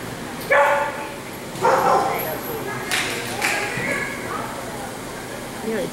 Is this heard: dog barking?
yes